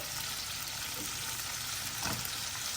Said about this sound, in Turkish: Kısık ateşte kapağını da kapatarak bunlar kızaracaklar.